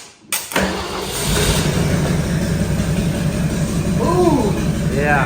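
An old car engine cranks briefly after the key is turned, then catches and settles into a loud, steady idle close by, with a short squeal near the end.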